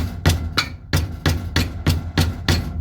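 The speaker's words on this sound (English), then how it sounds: "Yeah, if I keep on hammering." Steady hammer blows on a part of a 2001 Yamaha XVS125 Dragstar motorcycle, about eight sharp metallic strikes in an even rhythm, close and loud with no talk.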